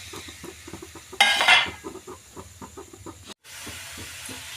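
Asafoetida and spices hit hot oil in a pan during cooking of a vegetarian chana masala, giving a sudden loud sizzle that fades within a couple of seconds over light clinks and background noise.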